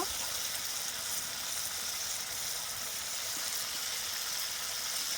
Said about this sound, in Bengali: এবার আমি মাছটা মশলার উপর বসিয়ে দেব